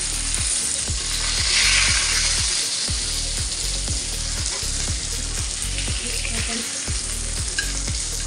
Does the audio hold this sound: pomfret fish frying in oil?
yes